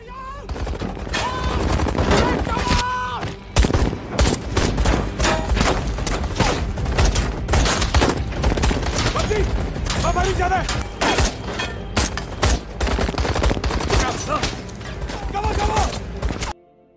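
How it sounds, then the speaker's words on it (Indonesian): Rapid gunfire from a film gunfight in which terrorists ambush an army convoy, with dense overlapping bursts and sharp shots under a continuous dramatic music score and mechanical clatter. "Di sana terjadi baku tembak yang tidak bisa dihindari lagi."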